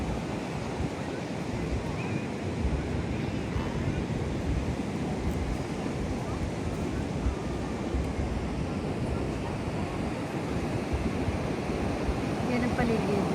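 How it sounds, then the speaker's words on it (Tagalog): Ocean surf at Surfers Paradise beach on the Gold Coast, a continuous broadband wash of gentle waves with wind buffeting the microphone, fairly quiet and unbroken throughout. "Hindi naman malakas ang alon."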